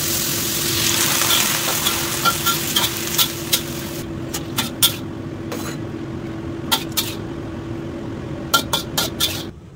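Vegetables stir-fried in a pan with a little oyster sauce: mushrooms, peas, snow peas and carrots sizzle steadily up close, while a utensil scrapes and clinks against the pan in irregular strokes throughout.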